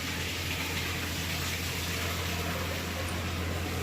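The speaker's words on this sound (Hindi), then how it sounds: "सुबह सुबह चला दिया है यहाँ पे पानी" Water runs steadily from a tap in an Indian home in the morning, a continuous broadband gush with a low hum, loud and unbroken, with no voices.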